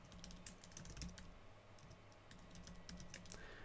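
Quiet, rapid keystrokes on a computer keyboard as a password is typed in, irregular clicks close to the mic with no talking.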